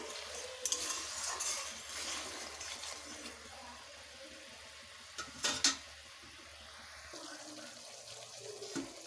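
Poppy seed paste is stirred in a pan with oil for an eggplant dish, a soft, quiet scraping and low sizzle with a couple of sharper knocks of the spoon.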